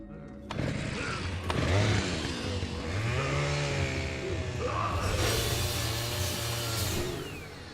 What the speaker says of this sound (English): trigger a short cutscene introducing the chainsaw Magini